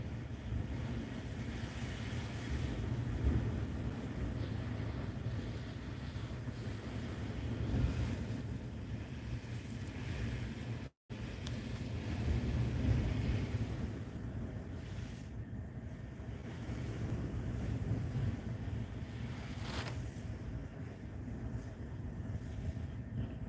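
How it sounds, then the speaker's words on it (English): Lake Huron waves wash and churn steadily around a boat in Tawas Bay, a continuous rushing surge with heavy wind buffeting the microphone throughout, loud and close. "These Lake Huron waves."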